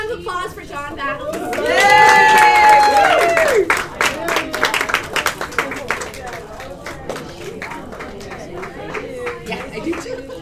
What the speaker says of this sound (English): Let's have one more round of applause for John Battles.